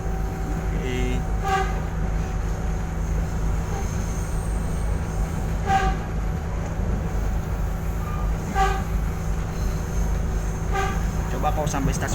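KA Jenggala passenger train travelling from Sidoarjo to Gresik in East Java, with a steady, loud rolling rumble and rhythmic wheel clacks over rail joints recurring every couple of seconds throughout.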